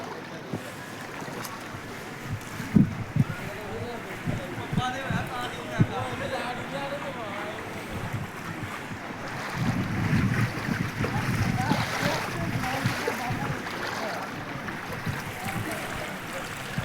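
Floodwater sloshes and washes steadily nearby in city streets in Dubai after heavy rain, under gusty wind buffeting the microphone, with muffled voices now and then.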